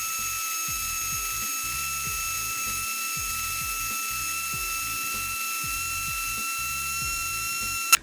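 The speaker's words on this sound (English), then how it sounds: "I have a lot of control with the palm sander" A palm sander works steadily on a wooden fingerboard deck, a constant high whine with rhythmic grinding pulses beneath, cutting off abruptly at the end.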